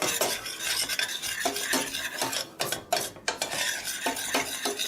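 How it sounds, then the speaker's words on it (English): Flour being stirred into melted butter in a pan, with a utensil scraping and clinking against the pan in quick, uneven strokes, close up and fairly loud, a soft sizzle underneath and no voices. "we added a 1/4 cup of flour. And we're stirring that until it's smooth."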